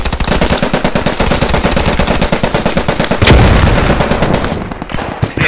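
An MG34 machine gun fires in the Post Scriptum war game, a loud, close, rapid and continuous stream of shots lasting the whole clip, with a heavier blast partway through.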